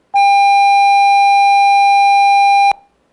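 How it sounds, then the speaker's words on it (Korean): A loud, steady synthesized tone, buzzy and rich in overtones, holds one pitch for about two and a half seconds, then cuts off abruptly. "이걸 좀 더 주파수를 높이면 정말 우리가 듣는 사이렌 소리쯤 될 것 같은데"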